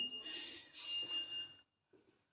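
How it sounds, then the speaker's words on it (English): An alarm goes off inside a building, heard as a faint electronic tone with a thin, high sustained pitch. It sounds at a distance for about a second and a half, then cuts off, and a brief soft murmur follows. "It's just an alarm going off."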